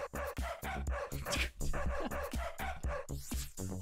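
Dog barking indoors, a run of sharp, fairly loud barks and yips in quick irregular bursts, close to the listener.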